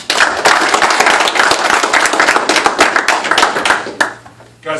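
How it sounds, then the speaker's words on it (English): A school assembly audience at Aurora Central breaks into loud, dense applause, many hands clapping together close and continuous for several seconds before fading out. "Clap it up for Tyler."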